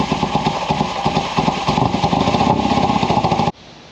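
A Kawasaki KZ750 motorcycle engine runs steadily at a low, lumpy idle, loud and close with a regular pulsing rhythm, then cuts off abruptly near the end leaving faint background noise.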